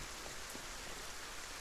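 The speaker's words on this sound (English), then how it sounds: "I love the rain. It's so cool." Rain falls steadily in the game Satisfactory, a soft, even hiss of pattering drops with a few faint taps, continuous and fairly quiet throughout.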